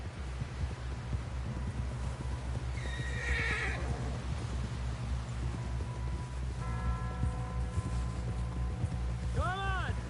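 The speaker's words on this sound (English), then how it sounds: "Someone help John down off this horse." A horse in a video game whinnies loudly and its hooves clip-clop steadily through a rumbling game soundscape, with people talking over it.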